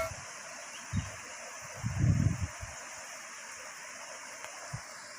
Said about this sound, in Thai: เสียงลำธาร